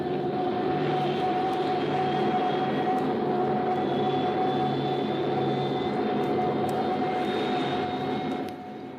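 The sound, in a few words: jet bombers roaring overhead in radio dramatization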